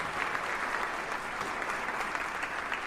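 An audience applauds, a steady, dense wash of clapping that holds at an even level from start to finish with no voices standing out.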